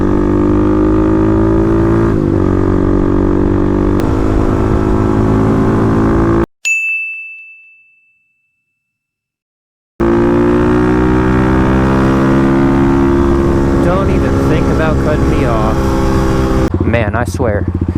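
Kawasaki KLX351 dual-sport motorcycle cruising on a highway, its steady engine drone loud and continuous, broken by a sudden cut to near silence with a brief tone, then the engine hum resumes with wind rush.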